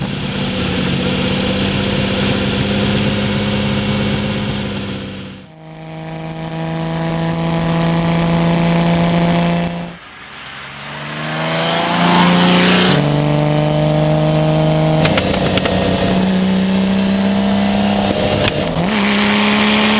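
A Lamborghini Miura engine idles, then revs up toward 6,000 to 7,000 RPM and climbs in pitch several times, each rise dropping back, loud and close with no voices.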